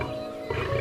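A lion roars in a low, rough rumble, one sustained call that swells louder in its second half, heard alone without talk.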